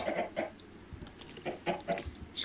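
Chickens cluck in the Minecraft video game, a few short rhythmic clucking bursts spread across the moment, moderately loud, with some quiet background noise and no speech.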